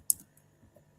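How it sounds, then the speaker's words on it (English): Typing on a computer keyboard: one sharp, bright key click followed by a few faint, scattered soft taps in an otherwise quiet room. "And so I'm typing this in the chat"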